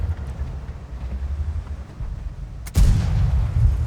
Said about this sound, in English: missed a shot there on the 1375